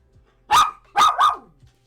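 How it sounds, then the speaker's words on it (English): A pet dog named Chanel lets out three loud, close barks indoors during a board-game unboxing, one sharp bark followed by a quick pair, with quiet between and no talking. "Sorry for the barking."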